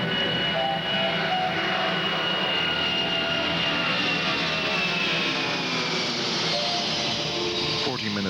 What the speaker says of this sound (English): The United Airlines DC-10 leaves Denver bound for Chicago and Philadelphia with 285 passengers on board.